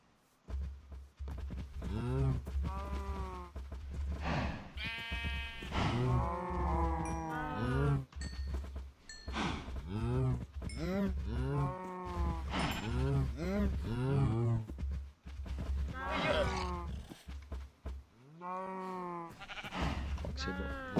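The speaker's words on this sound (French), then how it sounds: "On va nourrir les vaches." Cows lowing in a calm survival video game, several moos and bleat-like calls repeating one after another over a steady low background, under occasional speech.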